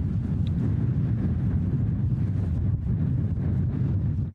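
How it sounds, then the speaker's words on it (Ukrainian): Strong wind sweeps snow past wind turbines in Austria, a steady, loud broadband roar buffeting the microphone throughout with no pauses. "Вітер зносить сніг,"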